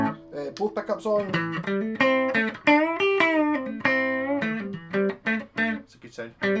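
A G&L ASAT Junior electric guitar with both pickups engaged plays a clean, sustained melodic phrase of ringing notes and bends, close and steady from start to finish.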